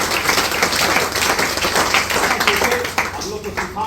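An audience at a motivational DXN success-story event claps loudly for its teachers, dense rapid clapping filling the room, with voices mixed in throughout the burst.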